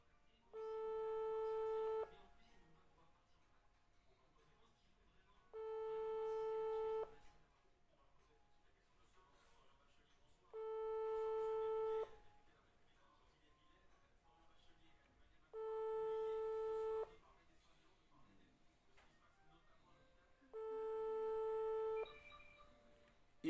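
An unanswered WhatsApp call rings out on a phone: five evenly spaced ringback tones, each about two seconds long with roughly three seconds of quiet between, clear and moderately loud against faint background noise.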